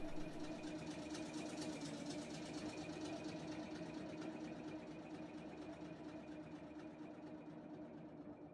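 A loud engine in a video game runs at a steady idle, a continuous droning hum with a fine rhythmic rattle that holds level throughout, fading slightly toward the end.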